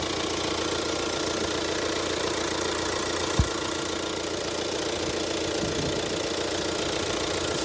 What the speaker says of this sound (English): If you can hear the engine, sounds good.